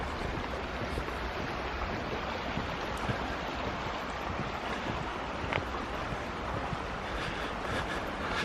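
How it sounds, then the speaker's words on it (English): Steady, broadband rush of water spilling over a small, rounded concrete weir on a stream, wide but shallow, continuous and fairly close, with no voices. "a small amount of water that's wide but shallow to come over and make a bit of a"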